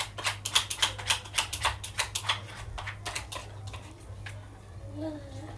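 Scissors snip through aso oke fabric in a quick, steady run of crisp close cuts, which then slow and thin out into softer handling noise.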